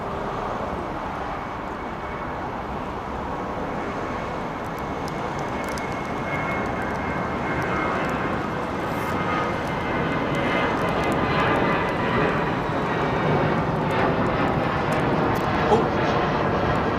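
An Emirates jet airliner departs Heathrow Airport with a broad, steady engine roar that swells slightly toward the end; voices can be heard at times over it.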